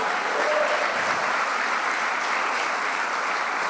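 Church congregation applauding together in a steady, dense wash of clapping that fills the room, continuous and fairly loud with no talk over it.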